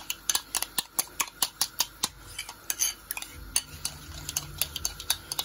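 A spoon clinks rhythmically against a bowl while food colour is mixed into yogurt, giving a quick run of close, sharp taps with no talk.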